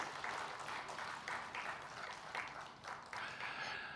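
Quiet, steady applause from a church congregation during a Sunday service, a soft wash of many hands clapping at a distance throughout.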